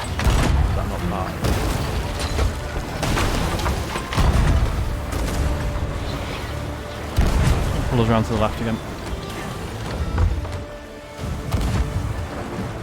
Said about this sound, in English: Those cannons are very hard to aim with, aren't they?